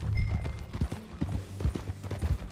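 Steady clip-clop of horse hooves while riding at a walk in Red Dead Redemption 2, close and rhythmic with even, repeated footfalls.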